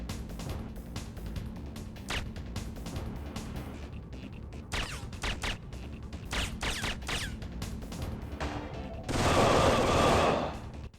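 Rapid gunfire in the PS1 game Syphon Filter, a dense run of repeated shots crackling through a busy firefight, swelling into a louder sustained burst near the end.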